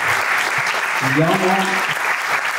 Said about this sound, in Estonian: Teeme aplausi ka ikkagi.